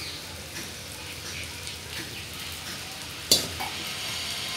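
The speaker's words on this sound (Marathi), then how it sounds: "तर आपल्याला हा साबुदाणा व्यवस्थित परतून घ्यायचा आहे" Soaked sago pearls are sautéed in a pan for fasting sabudana khichdi, giving a soft, steady sizzle with light stirring scrapes and one sharp clink of a spoon against the pan near the end.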